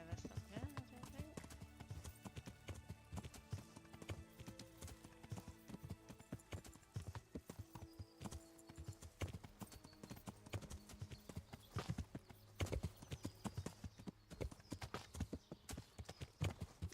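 Horse hooves gallop in the medieval video game Kingdom Come: Deliverance, a fast, continuous clip-clop rhythm running throughout with occasional talk over it.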